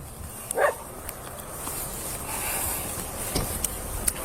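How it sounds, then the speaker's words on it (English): A dog in an open field, with one short bark near the start and a few faint yips further off, set against a quiet hissing outdoor background. "Hey, the way that dog's hanging around."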